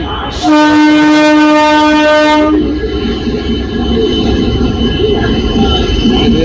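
The 18063 Yelahanka AC Express pulls into Santragachi station, sounding a loud, sustained horn for about two seconds before its heavy rolling rumble continues close by, with faint voices in the background.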